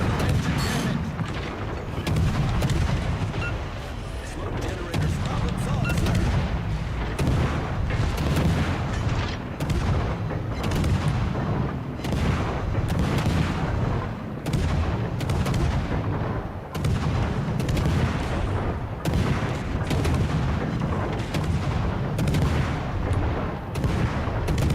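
Warship guns fire armor-piercing shells in World of Warships: Legends, heavy booming salvos rolling one after another for the whole stretch, loud and dense with overlapping blasts and rumbling echoes.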